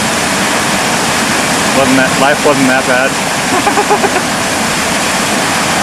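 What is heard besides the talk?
mountain creek flowing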